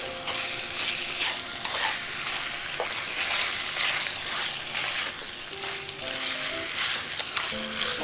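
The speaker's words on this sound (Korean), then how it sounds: "저는 그냥 바짝 볶아 보겠습니다" Spicy pork and carrots stir-fry in a pan with a steady, close sizzle and scraping stir sounds throughout, with no talking.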